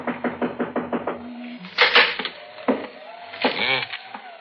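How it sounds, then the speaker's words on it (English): A series of about seven quick, close wooden knocks on a door opens a radio drama scene, followed by a voice calling out and footsteps or creaks. "I guess we knock."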